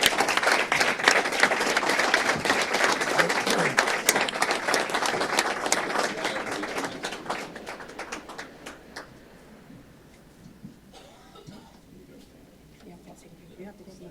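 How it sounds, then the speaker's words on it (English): An audience at a Montgomery County commissioners meeting applauds John, loud dense clapping that holds for several seconds, then thins out and fades to scattered claps and quiet room noise. "let's give John a round of applause"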